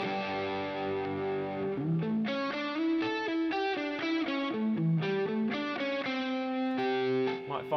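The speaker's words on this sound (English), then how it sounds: "And also bring in that distortion." An electric guitar plays a melodic line through Line 6 Helix Native distortion with a chorus-like shimmer, notes ringing out one after another at moderate volume.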